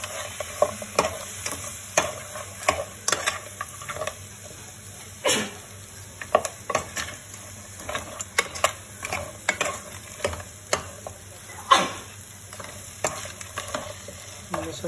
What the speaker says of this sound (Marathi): या ग्रेव्हीमध्ये चांगले परतून घ्यायचे